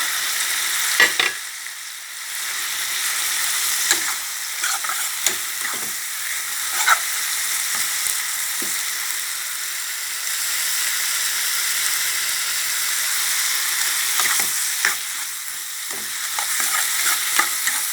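Minced pork and holy basil leaves stir-fried without oil alongside dried chillies, a constant close sizzle with intermittent scraping clicks of a spatula against the pan, no talking.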